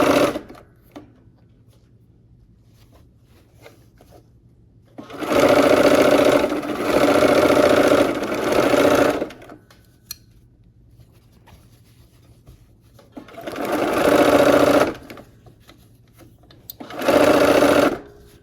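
A sewing machine stitches the last seam on a quilt block in three loud, close bursts of rapid whirring, separated by quiet pauses.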